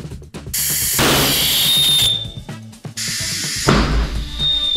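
A rotating detonation engine test firing makes two loud, harsh, broadband roaring bursts, each about one and a half seconds long, with a thin high scream running through them.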